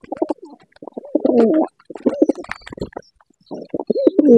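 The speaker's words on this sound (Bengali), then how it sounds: "কবুতরগুলো আমার ভিডিও যে করবো করারও কোনো সুযোগ দিচ্ছে না" Pigeons coo repeatedly at close range, their throaty rolling calls coming in bursts with short pauses, a few faint chirps from other birds scattered between.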